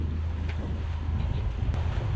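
Wind gust striking a sailboat at sea, a steady loud roar of wind buffeting the microphone with deep low rumble and water wash throughout, no voices.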